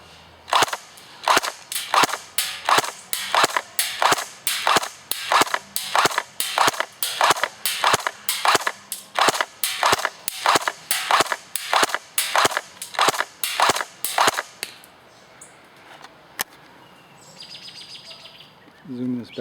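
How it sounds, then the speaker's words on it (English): An Umarex H&K G36C airsoft electric gun shoots at a target from a standing position. Regular snappy semi-auto pops repeat fast and loud for about fifteen seconds, then stop, leaving quiet background with faint chirps. "I'm going to shoot at that target"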